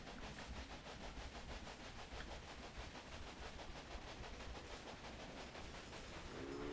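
Train in Railway Empire rolling along the railway, a faint steady rumble with rhythmic clacking pulses continuing throughout, no voices.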